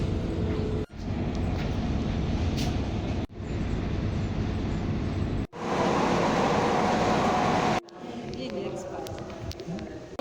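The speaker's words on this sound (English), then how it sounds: "The train is so smooth." Passenger train ride near Makadara train station in Kenya, a continuous loud rolling rumble inside the carriage, broken by several abrupt cuts, with talking heard over it.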